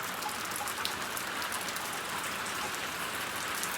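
Steady rain falling on a cold, wet day in Thailand, a constant, dense hiss of drops with no voices.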